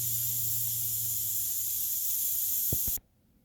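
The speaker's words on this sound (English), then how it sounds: "we'll be able to release the steam from the pot and then open up the lid" Steam venting from a Power Quick Pot pressure cooker after cooking rice, a steady loud hiss with no talk, ending with a couple of soft clicks before it cuts off abruptly.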